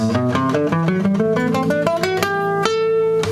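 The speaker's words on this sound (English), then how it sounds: "is called Dorian." A minor-flavored scale in the Dorian mode climbs step by step on a clear melodic instrument, steady and even, finishing on a sustained higher note.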